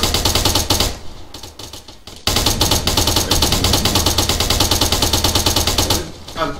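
Continuous, loud automatic gunfire lays down suppressing fire in the ArmA military shooter, with rapid bursts rattling almost without pause and one brief lull near the start.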